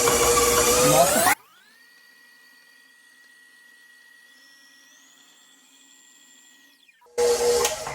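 A stand mixer with a paddle attachment creams butter and sugar for chocolate chip cookies, roaring loudly at the start and end with a quieter steady motor whine in between.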